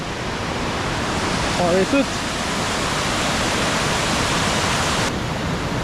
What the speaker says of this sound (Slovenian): Čudoviti slapovi.